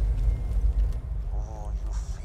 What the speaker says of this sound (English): The sound of those earthquakes marks my drills getting closer and closer to the vault.